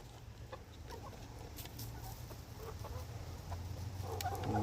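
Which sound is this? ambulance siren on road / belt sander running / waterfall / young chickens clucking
young chickens clucking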